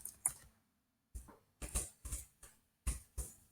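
Keys clatter on a computer keyboard as a web address is typed, a sparse run of about eight sharp, close clicks separated by short pauses, with no voice.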